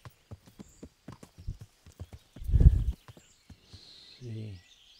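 Steady clip-clop of horse hooves at a walking pace in the video game Kingdom Come: Deliverance, close by, with a snort or whinny in the middle and a short voice near the end.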